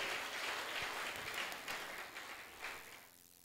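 A church congregation applauding at a service, a steady wash of clapping that stays fairly loud for a few seconds, then thins and fades toward the end.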